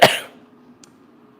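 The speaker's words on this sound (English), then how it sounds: "Something in there is making me have to cough." A single sharp cough bursts out close and loud at the start, then fades into a quiet room hum, with a faint tick shortly after, in a home kitchen while cooking Guinness BBQ wings in an air fryer.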